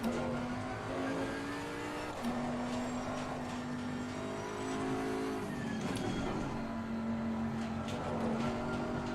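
A GT3 race car engine in Assetto Corsa Competizione drones steadily at high revs, its pitch stepping up and down through gear changes, continuous and fairly loud.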